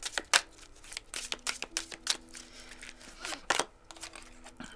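Christmas oracle cards shuffled for a reading, a close series of quick papery flicks and riffles in uneven bursts, fairly soft.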